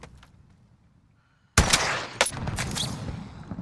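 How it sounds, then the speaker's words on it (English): After a quiet stretch of faint ambience, gunfire in the Warzone battle royale video game erupts suddenly and loudly: rapid automatic bursts with sharp individual cracks, continuing to the end. "Oh, you're getting shot from down in the hospital over there."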